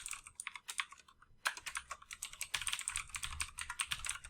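Rapid bursts of keystrokes on a computer keyboard while entering a name into a webinar registration form, with a brief pause near the middle before steady typing resumes, close and clear.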